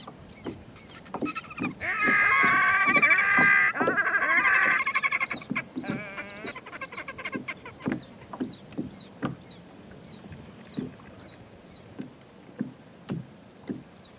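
Birds call over Lake Smith in Kila, Montana during a fishing trip: a loud burst of shrill, overlapping cries early on, then a run of sharp, regularly spaced calls and clicks that continue alone across the lake.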